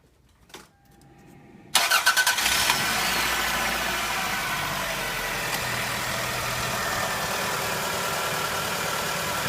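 A Toyota Camry engine cranks briefly, catches and fires up, then settles into a steady idle that continues for several seconds, close and loud, after a quiet start with a small knock.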